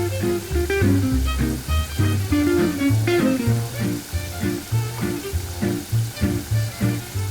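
Oil sizzles and crackles steadily in a hot pan as a little water is added, with a continuous frying hiss, with occasional clinks and stirring sounds close by.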